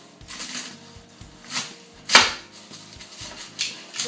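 A large white Lomagne garlic bulb from Gascony cut with a knife: a series of close, crisp cutting and crunching strokes, one loud sharp crack mid-way, with soft handling noises between.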